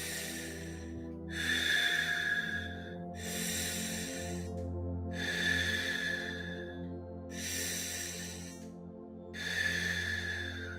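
Slow, deep breathing during a guided conscious breathwork session: five or six long airy inhales and exhales in a steady rhythm, close and soft, over a low sustained drone with no talking.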